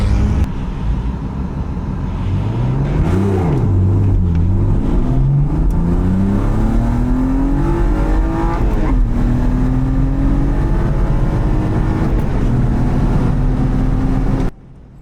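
An autosprint race car heard from inside during a competition run with non-working ABS; the loud engine revs continuously, its pitch climbing and dropping through gear changes for the whole run.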